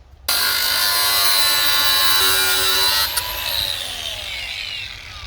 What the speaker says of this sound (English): we actually have to get a grinding disc, cut that one off